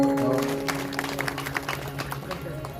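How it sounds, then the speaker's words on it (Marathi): An audience at a kirtan gathering during an Akhand Harinam Saptah claps in a scattered burst, while a steady drone of music or a sound system carries underneath. "ज्यांची सिस्टीम आहे त्यांच्याकरता एक टाळी वाजवा."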